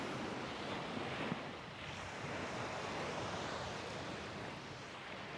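Sea waves wash continuously onto a Marbella beach in Spain, a soft, steady surf roar with some wind buffeting the microphone and no voices.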